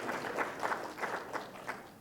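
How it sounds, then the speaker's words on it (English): Conference audience at a library network meeting applauds first-time attendees, a soft, steady patter of many hands clapping at a distance, faint and even, with no one speaking over it. "Round of applause for our first-time attendees,"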